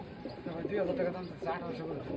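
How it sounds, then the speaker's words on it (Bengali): A pair of pigeons at a pigeon farm coo in soft, repeated throaty murmurs close by, with a faint background hum. "এখানে এক জোড়া কবুতর আছে"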